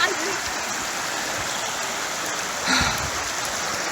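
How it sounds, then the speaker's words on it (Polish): A rushing stream in the Guatemalan jungle, a steady broad wash of flowing water close by, with a brief louder splash partway through. "Patrzcie się, jakie potoki."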